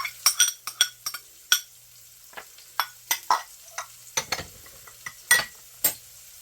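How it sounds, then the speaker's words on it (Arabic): Cheese pieces and chopped green onion stirred in a pan for a low-calorie omelette, heard as scattered scrapes and light clinks of a spoon in short irregular bursts, fairly quiet, with no talking. "وبعدين هنحط البصل الاخضر وهنقلبه تقليب كويس."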